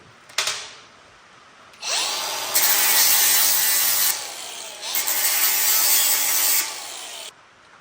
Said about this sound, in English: so we're gonna grind this smooth